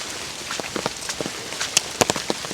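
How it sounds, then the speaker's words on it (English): Rain falls steadily in a forest during the rainy season, a dense even hiss broken by scattered close drops tapping on leaves and surfaces. No voices. "it's rainy season"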